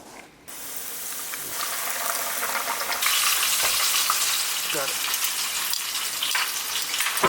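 Fish frying in hot oil, a dense, continuous sizzle and crackle that swells louder partway through and holds steady, close and alone without talk.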